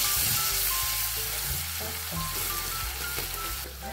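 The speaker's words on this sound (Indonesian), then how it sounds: "Kita tumis ya bumbunya," Spice paste and large red chilies sautéing in a pan give a loud, close, continuous sizzle with low rumbling scrapes and occasional clinks from stirring, with no voices.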